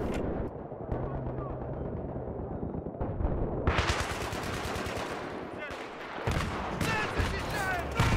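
A landmine blows up in Battlefield 3 amid rapid automatic gunfire and heavy blasts on the Grand Bazaar map, a dense, loud battle soundscape that keeps going throughout.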